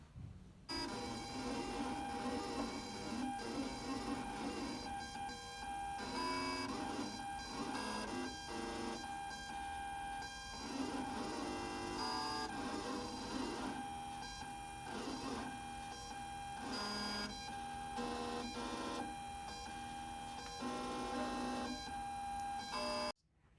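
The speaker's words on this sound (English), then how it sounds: "what the machine is doing is cutting out the exact anchor points that you've set up in the computer" A sticker cutting machine steadily traces anchor points while cutting vinyl, a continuous mechanical whir broken by rhythmic shifts and short pauses as the blade moves from point to point, with faint talking.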